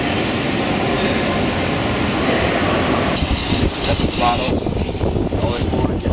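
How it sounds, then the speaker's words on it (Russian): A gas-powered drone flies at the Berlin air show, its engine a loud continuous roar over a busy outdoor crowd, with a thin high whine rising partway through. "А мы здесь видим дрон, который летает на газу."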